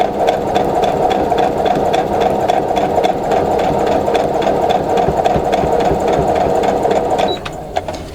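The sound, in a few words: sewing machine stitching quilt block seam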